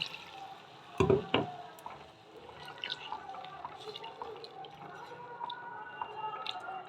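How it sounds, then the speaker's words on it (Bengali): Spice-rinsing water goes into a pumpkin and potato curry in the pan, starting with a brief loud splash and squelch and then settling into faint bubbling and dripping. "আমি এবার এর মধ্যে দিয়ে দেব জল ওই মশলা ধোয়া জলটাই দিয়ে দিলাম"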